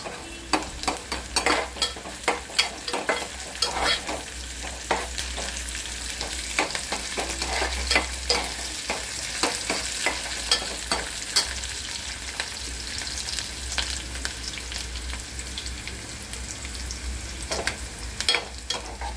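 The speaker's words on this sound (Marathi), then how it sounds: "कांदा पूर्ण भाजून घ्यायचा।" Onion sizzles steadily in a pan as a spatula scrapes and stirs it in frequent, irregular clicks, while cooking for a liver fry masala. The frying stays close and continuous throughout, with no voices.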